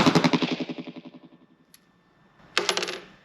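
A High Standard DM101 derringer in .22 Magnum fires its second barrel outdoors: one sharp, loud crack with a ringing, fluttering decay, following the fading tail of an earlier report.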